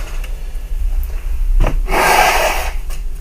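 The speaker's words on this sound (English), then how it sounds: "I need to blow my nose" A person blows their nose in one close, breathy, rushing honk lasting under a second, preceded by a short sniff and a soft knock.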